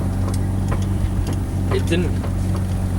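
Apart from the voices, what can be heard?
Mazda RX-7 FD3S engine idling with new downpipe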